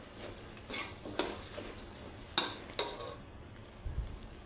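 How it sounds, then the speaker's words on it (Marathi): Rice sautéed in a pan for moong dal khichdi, with a soft, low sizzle under a handful of sharp spoon scrapes and clinks against the pan, close up and without talk. "अशा प्रकारे तांदूळ परतून घ्यायचे"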